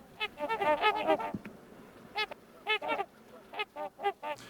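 A flurry of nasal, trumpet-like honks from trumpeter swans, followed by a few spaced calls, close and clear against a quiet background.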